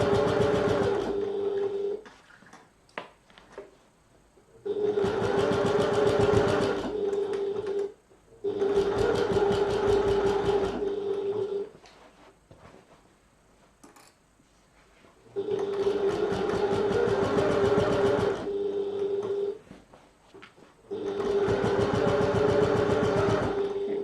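A sewing machine stitches fabric around a flap on a button lock project. It runs in four long, steady bursts of fast mechanical whirring, with quiet gaps of handling and faint talk between them.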